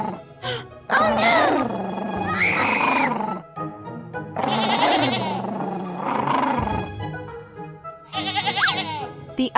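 Sheep in an animated farm cartoon bleat in long, wavering calls, loud and close, several in a row with short pauses between them.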